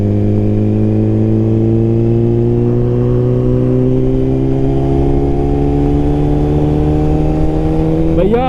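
A 2021 Suzuki GSX-R1000R fitted with a Brocks full exhaust runs a loud, close engine note that climbs slowly in pitch throughout, ending in a brief sharp rise.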